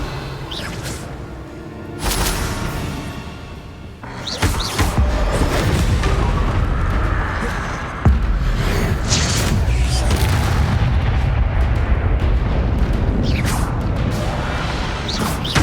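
A Bombarda spell explodes in the video game Hogwarts Legacy with deep, heavy booms and crashing debris, loud and sustained across the clip, layered over dense rumbling combat effects and whooshes, with no talking.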